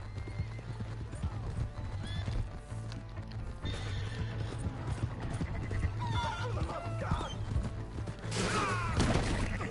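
Rhythmic clip-clop of horse hooves with a loud whinny in the video game Red Dead Redemption 2, over steady low background hum and scattered effects.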